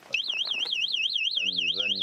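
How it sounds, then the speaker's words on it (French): An electronic alarm from a tracking collar on a desert lion warbles continuously in a fast rising-and-falling tone, fairly close, while a voice speaks briefly over it. "lorsque le lion s'approche trop près, le collier déclenche une alarme"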